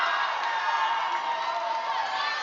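A crowd at a lead and top rope climbing competition cheers and shouts steadily, a dense, lively roar of voices sustained throughout.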